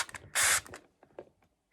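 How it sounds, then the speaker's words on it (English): A spray bottle fires one short, loud hiss of water onto a plastic bag, framed by faint clicks and taps from the trigger and handling before and after. "I'm going to spray the water again."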